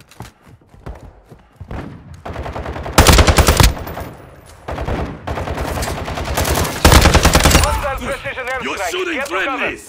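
Rapid machine-gun bursts and single gunshots from Call of Duty Modern Warfare 2 multiplayer combat, loud and close. The bursts come in dense clusters, with shouting voices in between.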